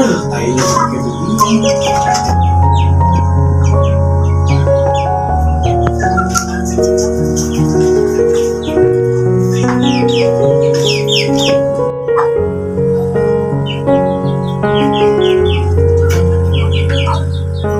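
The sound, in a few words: chickens clucking in a former bedroom turned chicken coop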